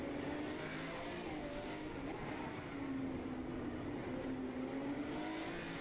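A Ferrari FXX K Evo race car engine in the rFactor 2 sim racing game at Lester GP drones steadily, its pitch gliding down and back up as it runs through gears, continuous and without speech.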